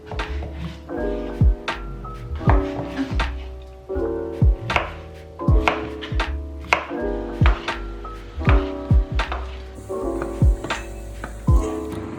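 Knife chopping mushrooms and other ingredients for a creamy mushroom pasta on a cutting board, a steady run of sharp, close thuds in quick rhythmic bursts with brief pauses between, no talking.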